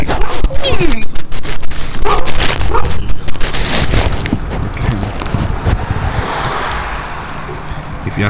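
Police dogs barking and yipping outdoors among trees, loud bursts mixed with excited human chatter and shouting, the barking densest early on and thinning to a rougher background later.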